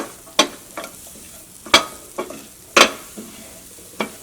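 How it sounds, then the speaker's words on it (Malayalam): Onions sautéing in coconut oil for a chapathi curry, with a few sharp spoon-against-pan scrapes spaced a second apart over a faint steady sizzle, close and clear. "ഈ സവോളയെ നമുക്ക് ഇതിൻ്റെ കൂടെ ഇട്ടിട്ട് ഒന്ന് നന്നായിട്ടൊന്ന് വഴറ്റിയിട്ടെടുക്കാം"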